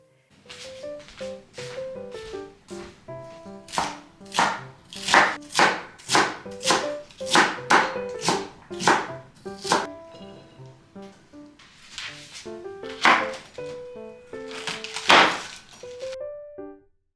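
A knife chopping on a board in regular, sharp strokes, with pauses between runs, while soft background music plays underneath.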